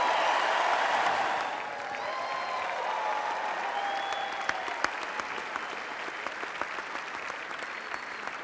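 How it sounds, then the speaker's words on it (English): Audience applause at an event honoring tennis player Martina Navratilova, steady dense clapping that swells at the start and then continues evenly, with a few sharper claps standing out, moderately quiet. "let's have one more round of applause for Martina Navratilova and Bob Bryan"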